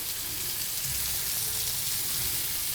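Local beef leg meat sizzles steadily in hot oil, a dense continuous crackle like light rain, close and fairly loud with no talking.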